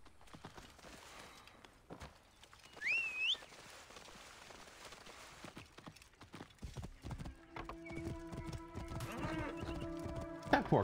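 Rapid hoofbeats of a galloping horse in the video game Assassin's Creed Origins build up in the second half, after a short whinny and scattered footsteps and clicks.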